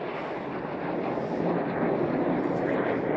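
Two jet fighter aircraft pass overhead above the mountain Tryfan, a broad, steady roar that swells gradually, heard outdoors with wind buffeting the microphone.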